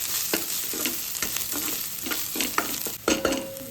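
A spoon stirs turmeric, coconut and garam masala frying in a pan for mixed vegetable bhaji, giving steady close scraping and sizzling throughout.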